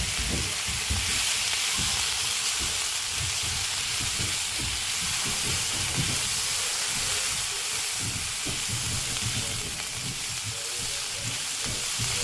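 Chopped poblano, jalapeño and red pepper sizzle loudly in a pan, a dense continuous frying hiss with soft rhythmic scraping and stirring underneath, close and steady throughout.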